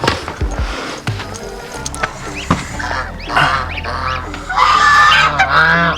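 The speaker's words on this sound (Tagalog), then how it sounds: "Oh, may alaga din silang gansa oh." Domestic geese kept on a free-range Philippine farm honk loudly and repeatedly, harsh nasal calls overlapping near the end, with scattered thumps and faint background noise between them and no clear talk.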